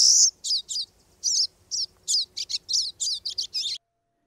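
A pine siskin calls in a rapid series of about a dozen short, buzzy, rising chirps, clear and fairly close against quiet background, on Vancouver Island near Port Alberni.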